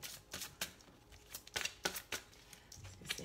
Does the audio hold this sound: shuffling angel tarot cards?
yes